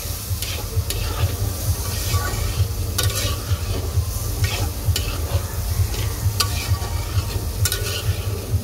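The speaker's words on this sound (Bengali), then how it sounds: "দেওয়ার পরে খুব সুন্দর করে এটাকে কষাবো।" Ground turmeric, cumin and coriander powder being sautéed in a pan for a fish curry with potato and eggplant, a steady loud sizzle with repeated scraping stirs throughout.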